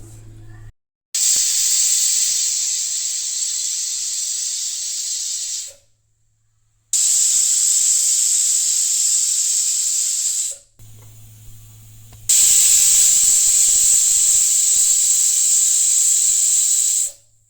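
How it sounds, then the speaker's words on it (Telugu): A pressure cooker with goat trotters curry shrieks its whistle in long loud bursts of hissing steam, repeating with short silent gaps between releases, close and alone. "ఇప్పుడు కుక్కర్ మూత పెట్టేసి ఒక 10 విజిల్స్ వచ్చే వరకు ఉంచాలి."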